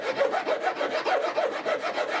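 A hand file rasps back and forth across a wooden guitar bridge clamped down for shaping, making steady rhythmic strokes of about five per second, close and fairly loud with no voices.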